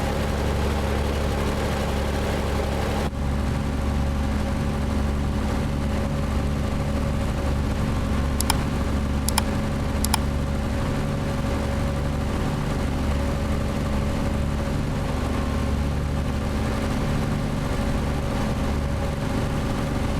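Truck idling in American Truck Simulator, hauling a lowboy with a logging skidder: a steady low engine drone heard from outside, constant and unchanging, with a couple of faint clicks partway through.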